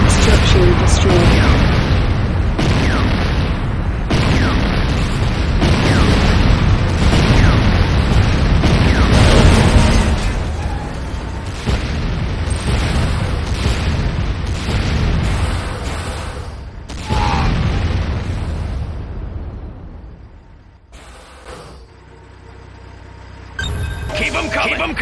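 Loud structure explosions and booms roll through a chaotic battle in the video game Renegade. Bursts and crashes hit repeatedly for about twenty seconds over dense rumbling, followed by a quieter stretch with a few sharp pops.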